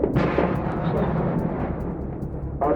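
Heavy explosions and artillery-like blasts in a war documentary about the US attack on Panama, a deep continuous rumble with sharp booms at the start and end, dense and loud.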